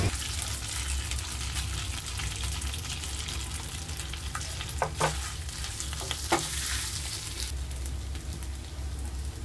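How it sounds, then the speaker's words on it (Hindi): Mashed potato tempered in hot oil with mustard seeds and curry leaves, a dense, steady close sizzle and crackle with a couple of brief stirring scrapes. "इस आलू के मसाले को मैं थोड़ा सा तड़का दूंगी।"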